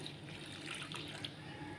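Water pours steadily into a bowl holding a yeast mixture for bread dough, a faint, continuous splashing trickle heard alone.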